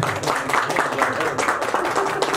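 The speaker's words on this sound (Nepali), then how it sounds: "अलिक धेरै ताली बजाइदिनु होला" An audience claps steadily at a Nepali poetry and literature gathering, the applause running close and continuous through the whole moment with voices mixed into it.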